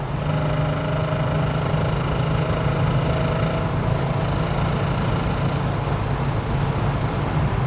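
A Holden HK car engine accelerating hard at highway speed with a strange noise, a steady loud drone with heavy low rumble and broadband road roar, continuous and close.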